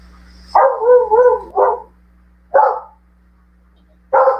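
Several pet dogs bark in short separate bursts, a quick double bark followed by single barks spaced a second or more apart, loud and close against a faint steady hum.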